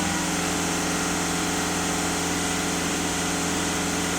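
A VW Passat 1.6 TDI diesel engine held at about 2500 rpm, a steady, continuous mechanical drone with no breaks, close and fairly loud, with no talk over it.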